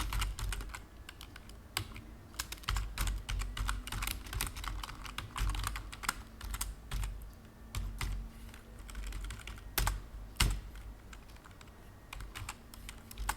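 Code being typed on a computer keyboard, a steady run of close, crisp key clicks with occasional louder keystrokes and short pauses, no talking.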